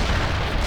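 A fragmentation round fired in World in Conflict, heard as a single short loud boom with heavy low rumble filling the whole moment, close and alone.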